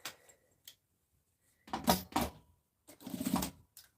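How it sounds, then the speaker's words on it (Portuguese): A sewing machine stitching a fabric pencil case runs in two short whirring bursts separated by quiet pauses, with faint handling clicks around them. "Passa a costura, dobra a outra pontinha aqui, ó. Costurou."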